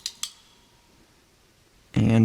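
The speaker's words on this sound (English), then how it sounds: "Lastly, we have stick clicks." Two sharp, dry drumstick clicks from a drum sample library ring out close and bright in quick succession, followed by a short silence before a voice starts speaking.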